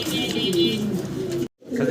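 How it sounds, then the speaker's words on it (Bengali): A white velvet fancy pigeon with a red shield coos close by, a low, throaty rolling call that repeats, breaking off briefly before resuming. "হোয়াইট কালারের ভেলভেট কবুতর, একদম velvet লাল shield।"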